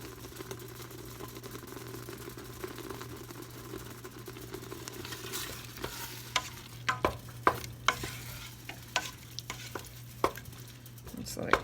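Pear jam coming to a boil in a pot gives a steady low bubbling simmer with scattered sharp pops and spits that grow more frequent toward the end, heard close with no talking.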